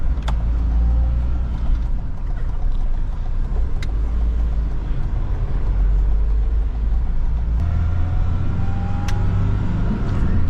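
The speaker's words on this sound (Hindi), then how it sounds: "आवाज सुन रहे हो आप इंजन की?" Diesel engine of a used Mahindra Scorpio SUV running steadily while driving, a continuous low rumble close up with light road noise, no talking.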